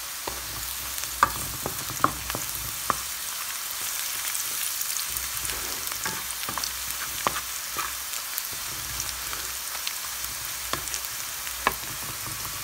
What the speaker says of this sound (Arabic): دروك غادي نزيد الثوم، نقلبه غير واحد شويه